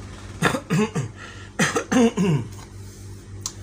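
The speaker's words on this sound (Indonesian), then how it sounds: "Maaf sama teman-teman ya. Batuk." Several short, harsh coughs in quick bursts, close to the listener, with brief pauses between them and a quiet background.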